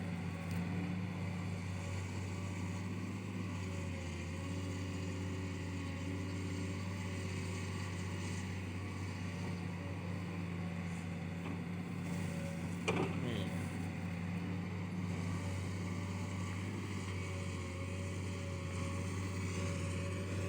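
A Kobelco SK200 excavator, a 10 series machine, digs a pond with a steady, droning diesel engine idle and work hum that continues throughout, with a brief metallic clank partway through.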